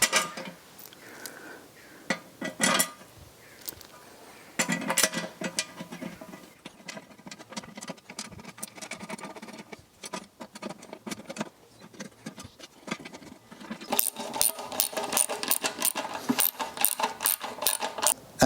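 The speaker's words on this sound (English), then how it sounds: "Alright, so now let's put the bolts up." Metal bolts clink and rattle while being fitted to the cylinder head of an old, rusty engine under rebuild, with scattered close-up taps and jingles that turn into a denser run of bright metallic clatter near the end.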